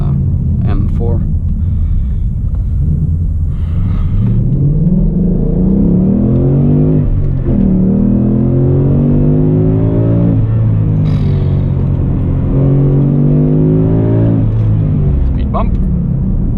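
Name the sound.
Ford Mustang GT V8 engine accelerating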